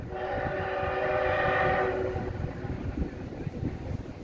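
A DT668 steam locomotive heading a train toward Taitung sounds a sustained, harmonically rich horn or whistle blast, followed by rumbling, rattling running noise as the train passes.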